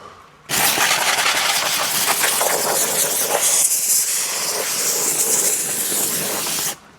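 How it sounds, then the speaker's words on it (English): A handheld steamer blasts a steady, loud hiss across the outside of a Chevrolet Suburban's painted body, one continuous spray running for about six seconds before cutting off abruptly. "steam clean the outside of the vehicle."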